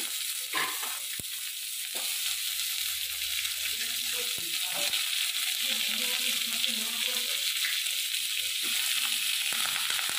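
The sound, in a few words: carrots, beans and potatoes frying in a pan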